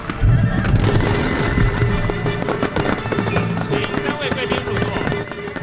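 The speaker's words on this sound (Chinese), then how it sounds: "99发高空烟火同时要向空中绽放" High-altitude fireworks launching at a National Day celebration in Taiwan, dense crackling bursts and booms that fill the scene, heard beneath a news voiceover.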